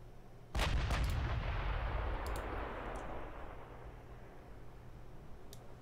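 Naval guns on a battleship in the video game Ultimate Admiral: Dreadnoughts fire one heavy, booming salvo whose deep rumble rolls on and fades slowly over several seconds, with a few faint clicks afterward.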